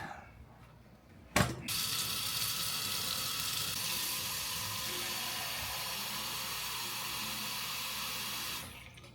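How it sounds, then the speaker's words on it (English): Warm water runs from a kitchen tap into a container while pizza dough is being prepared, a soft click giving way to a steady hissing stream that flows evenly for several seconds before cutting off. "Now I need to get some warm water."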